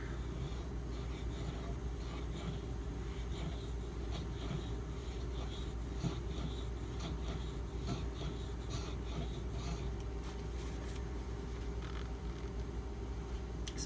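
A Spyderco Manix 2 knife with a Maxamet steel blade is sharpened on CBN waterstones, producing a continuous soft, rhythmic scraping as the edge is stroked back and forth, close and quiet with no voices.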